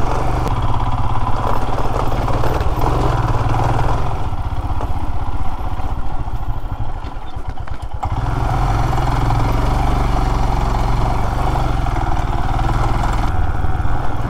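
Motorcycle riding over a rough, broken road in Meghalaya, its engine running steadily with rattling and clatter from the uneven surface, loud and close throughout.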